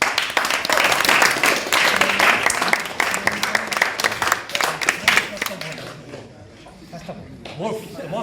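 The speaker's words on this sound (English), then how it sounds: "Give this man a big round of applause" An audience at a drama school acting showcase breaks into a burst of dense clapping that tapers off over several seconds, with voices emerging as the applause fades.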